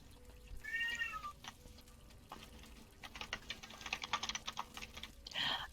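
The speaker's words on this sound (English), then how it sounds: "that's my cat." A house cat meows twice, close and clear, once near the start and again at the end, with quick keyboard typing clattering in between in a quiet indoor room.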